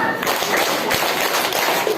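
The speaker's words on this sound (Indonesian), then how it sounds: "Gini kita tepuk 5" A group of children at a Ramadan Islamic school session claps together in a counting game, dense overlapping hand claps and taps at close range over a busy room, with voices mixed in.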